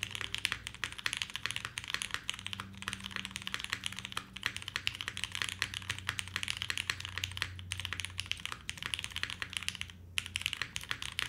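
Rapid, steady typing on a Derivative mechanical keyboard with a polycarbonate plate and O-ring mount, soft close-up clacks in a dense continuous rhythm, fairly quiet with a deep, muted tone and brief pauses.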